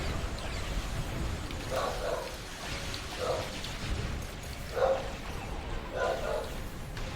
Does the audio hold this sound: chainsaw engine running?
no